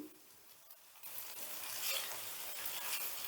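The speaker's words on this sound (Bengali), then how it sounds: "যতক্ষণ না টমেটোটা থেকে তেল ছেড়ে দিচ্ছে ততক্ষণ ভাজতে হবে" Chopped tomatoes and egg frying in oil in a pan, a soft steady sizzle that grows a little louder partway through, with no talking.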